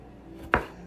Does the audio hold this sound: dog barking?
no